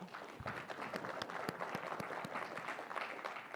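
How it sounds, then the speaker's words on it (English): Sparse, scattered clapping from a small crowd, light and uneven, lasting a few seconds without building up. "This is our tepid clapping group."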